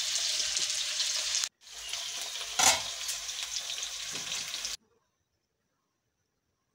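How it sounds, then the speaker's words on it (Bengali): Potatoes frying in a pan for Bengali dhokar dalna, a loud close sizzle interrupted by a brief gap and a stir, then cutting off to silence after a few seconds. "আলুগুলো এবার আমরা লাল লাল করে ভেজে নেব।"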